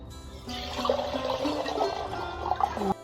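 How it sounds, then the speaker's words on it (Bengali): Ganges water poured into a small pot during a Shivratri puja, a short close gurgling, trickling splash lasting a few seconds with no voices. "তো এখন আমি ঘুটির মধ্যে গঙ্গা জল ঢেলে নিচ্ছি।"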